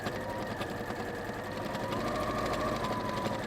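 A smooth-running sewing machine stitches through thick fabric, a steady fast mechanical whir with an even rapid needle rhythm, heard alone at close range.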